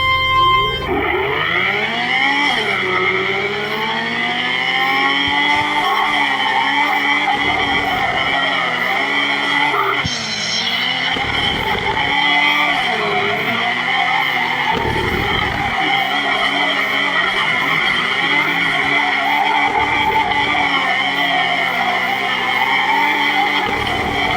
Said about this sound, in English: I really have to get used to the power on this car.